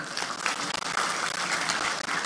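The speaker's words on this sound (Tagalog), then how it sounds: "Palakpak tanan." Congregation applauding during a church sermon, a steady broadband clatter of many hands filling the space with a few brief dips, no speech over it.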